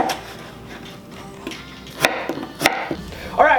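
A knife chops potatoes into even chunks on a cutting board, a handful of sharp, close wooden knocks spaced unevenly with quiet gaps between them.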